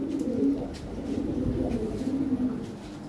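European Lahore pigeons in a pair coo steadily in a low, rolling drone that carries on throughout, moderately close with faint background hiss.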